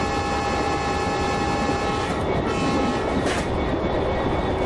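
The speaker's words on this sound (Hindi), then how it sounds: "एक बार हॉर्न भी बजा देते हैं" Indian Railways WDP4B diesel locomotive hauling the Darjeeling Mail in the MSTS train simulator game, with a steady engine rumble and a sustained tonal horn blast standing out over it, loud and close throughout.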